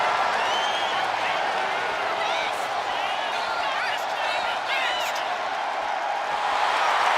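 A wrestling arena crowd in WWE 2K25 roars and cheers steadily through a Hell in a Cell match between Undertaker and Mankind, a loud continuous wash of voices with a few sharp impacts, while commentary runs over it.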